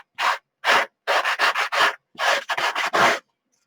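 A sanding block rubs back and forth across a surface in quick, rhythmic scraping strokes, loud and close, with brief pauses between passes, while altering a file folder.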